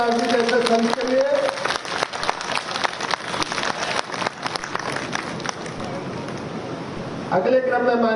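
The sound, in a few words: audience applause for Saint Ravidas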